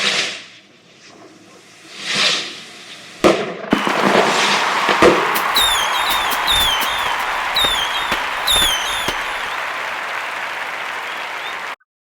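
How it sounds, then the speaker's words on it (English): Fireworks show at night: distant booms and crackling bursts, then a sustained dense rush of popping, crackling and whistling rockets with sharp bangs, continuing loudly for several seconds before ending abruptly. "there's also a fireworks show"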